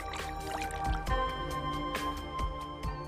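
Mongolian mushrooms are stirred by hand in water to wash out sand, giving soft close sloshes, drips and wet squishes in an irregular rhythm.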